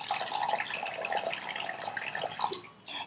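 Chana dal being rinsed in water, one cup of lentils swished by hand in a bowl, giving a steady close trickle and slosh of water with small splashes throughout.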